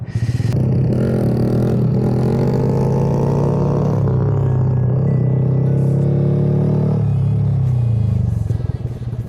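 A Honda Grom motorcycle revs hard and steadily through a wheelie, its engine note loud, close and sustained for several seconds, rising and falling slightly before easing off near the end.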